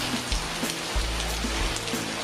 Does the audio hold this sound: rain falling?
yes